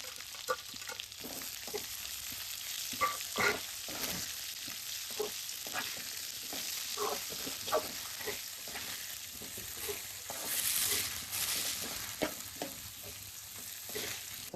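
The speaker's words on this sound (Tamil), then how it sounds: "பாருங்க, வெங்காயம் நல்லா வதங்கிடுச்சு" Onions sauté with dried chilies and garlic in a pan, giving a continuous sizzle broken by repeated scraping stirs at an uneven rhythm, close and fairly loud, with no voices.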